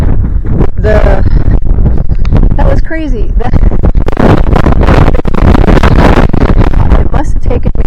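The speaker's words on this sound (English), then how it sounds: "It's just starting to get windy." Loud, buffeting wind roaring across the microphone almost continuously while bikepacking in the Mojave Preserve, with a person talking briefly over it.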